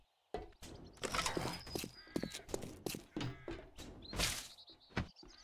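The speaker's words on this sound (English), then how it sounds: "I hear a bird." A crow caws a few times inside a video game, over a busy bed of mechanical clicks, rattles and shuffling.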